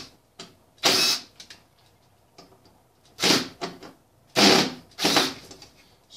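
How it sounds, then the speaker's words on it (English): Metal cabinet hinges being unscrewed and pulled off a cabinet door on a table, with several sharp clattering bursts of metal and wood handling separated by quiet pauses, close up. "I'm going to take these hinges off."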